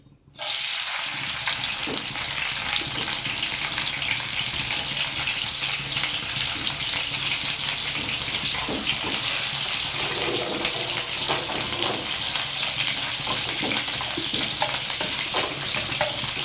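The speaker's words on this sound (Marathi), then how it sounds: "आता आपलं तेल गरम झालेलं आहे, तर त्या सर्वात प्रथम आपण टाकणार आहे मिरची" Green chilies dropped into hot oil for a chutney fry with a loud, dense, continuous sizzle that starts abruptly and holds steady close up, with occasional stirring scrapes.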